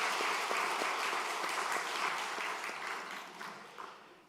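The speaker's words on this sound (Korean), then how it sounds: "시원 찬양대에 격려의 박수를 해주시기 바랍니다" A church congregation applauds its choir during a Sunday service, a moderately quiet, even patter of many hands clapping that gradually thins out.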